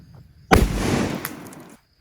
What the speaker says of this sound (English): It is a flashbang simulation device that is powered by blanks.